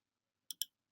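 Two quick, crisp mouse clicks close together in near silence, made while applying superscript formatting to a reference number.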